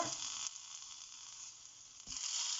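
Tomato sizzling and frying steadily in a hot pan for coriander tomato pachadi, a continuous close hiss with a brief stir-like shift near the end.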